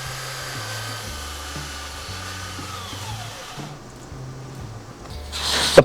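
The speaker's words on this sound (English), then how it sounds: "Taking this outside, I'm going to use a heavy-duty belt sander." A heavy-duty Harbor Freight belt sander runs on glued-up poplar outdoors, giving a steady whirring hum with shifting low pitch as it works the wood, ending in a brief loud burst.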